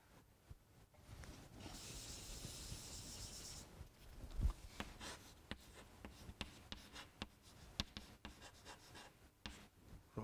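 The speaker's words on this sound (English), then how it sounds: "Let me just write down this." Someone writes on a board during a heat transfer lecture: a long run of scratchy, rhythmic strokes and taps, close and fairly quiet, with a brief hissy rub early on and no talking.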